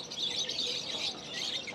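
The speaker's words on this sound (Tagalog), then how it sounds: "ang daming ibon. Klase-klaseng ibon." Many caged birds for sale at a bird and poultry market in Qatar, a dense overlapping mass of high chirps and tweets that continues steadily throughout, fairly close.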